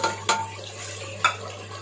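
Meat for achar gosht is stirred in a pot with kasuri methi, fenugreek seeds and spices, giving two sharp utensil scrapes against a faint background hum, with no talking.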